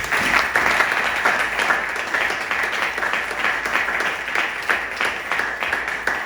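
A church congregation applauds together, a dense, sustained burst of rhythmic clapping close by that fills the room without pause.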